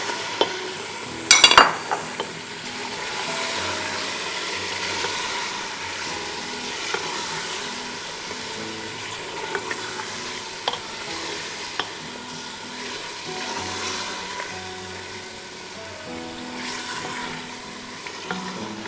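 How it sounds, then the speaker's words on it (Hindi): Mutton chops fry in a pot with a continuous close sizzle and hiss. Occasional knocks and scrapes of a spoon come through, with one sharp clatter near the start, and no one talks. "इसको मैं अच्छी तरह भूनना है मुझे, ठीक है, बहुत अच्छी तरह भून रही हूँ।"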